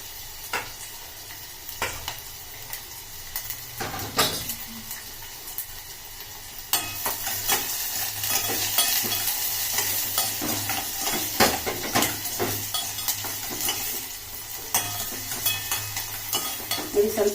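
Sliced onions fry in a pan, browning as they cook, with a continuous close sizzle and frequent scraping, clinking stirs that grow busier partway through.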